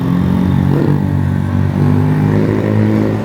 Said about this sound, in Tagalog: May motor dere oh.